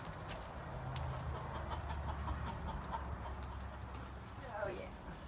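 Backyard chickens cluck softly and intermittently at a moderate distance amid outdoor ambience, with people talking over much of it.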